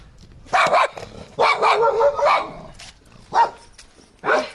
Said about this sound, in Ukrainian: Собаки налякали